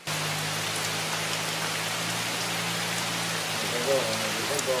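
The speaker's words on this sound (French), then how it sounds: "À peine installé, la pluie est déjà là pour nous accueillir." Steady rain falling in the green Casamance region of Senegal, a constant dense hiss of drops on surfaces, even and close, with a faint low hum underneath at the start.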